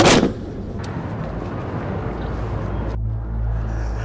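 A single sharp, loud blast of a cannon firing a granite cannonball at the start, followed by a long rolling rumble and outdoor noise as it fades.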